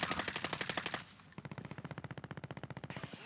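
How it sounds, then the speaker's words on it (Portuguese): Rapid automatic gunfire in the video game Call of Duty: Warzone, two sustained bursts of fast, evenly spaced shots with a brief gap between them, loud and close. "Vitor, atira no cara da casa com essa sniper podre sua."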